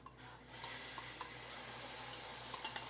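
Onions hit a roux for sauce piquante with a soft, continuous sizzle, faint and close, and a few light clinks of utensils near the end; no speech.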